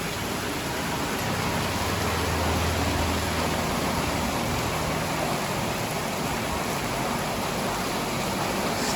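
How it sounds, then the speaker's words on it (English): Steady rain falling outdoors on a street in Bali, a dense continuous hiss with a faint low rumble of passing traffic underneath, unbroken for the whole stretch. "Yes, rain."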